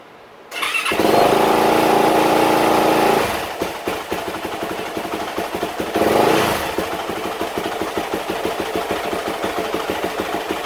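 A 2019-2022 Yamaha YZ450F, freshly rebuilt with a new timing chain and valves, fires up with a loud rev, then settles into a steady, rapid, close idle that chugs evenly on its own.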